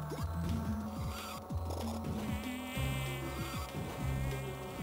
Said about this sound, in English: Come on, mosquitoes.